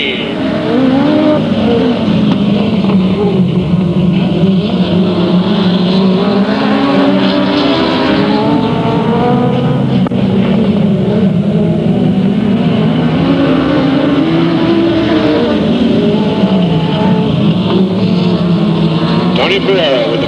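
Race cars roaring around the oval at Delta Speedway, a dense, sustained engine drone with rising and falling pitch as cars pass, loud and continuous, under an announcer calling the race.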